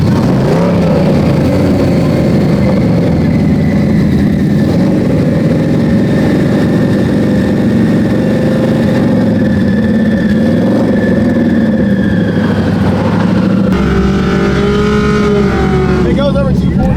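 A car engine at a drag racing session revs loud and near, holding a steady high drone that shifts in pitch before dropping back, with people talking over it.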